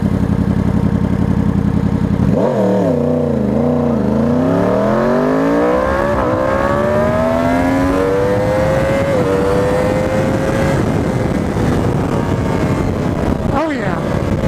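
A 2020 Yamaha R1 motorcycle accelerates hard, its engine rising in pitch through the gears and climbing to high revs, loud and close, with a rider speaking over it.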